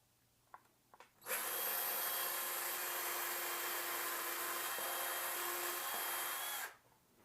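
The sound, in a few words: power tool driving screws into camera mounting bracket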